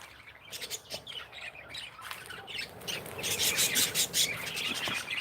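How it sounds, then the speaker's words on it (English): Small wrens chirp and squawk in a Thai garden, a busy scatter of short, fairly faint calls that thicken toward the end over steady outdoor background noise. "There's some like little tiny wrens floating around in here."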